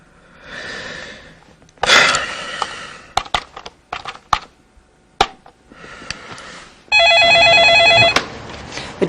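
A telephone rings in loud bursts, separated by clicks and handling noises, with no talking during the ringing.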